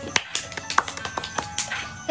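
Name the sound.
round of applause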